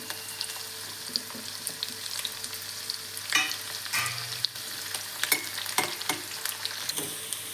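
Small onions and curry leaves fry in a pan with a steady bright sizzle, broken by a few louder spatters and stirring scrapes, close and without speech.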